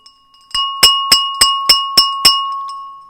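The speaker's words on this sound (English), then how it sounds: "Are we ready, Chris Beecham, to ring that bell with" A bell rung to open the stock market, six evenly spaced bright metallic strikes, loud and close, each ringing on with a sustained tone and fading out at the end.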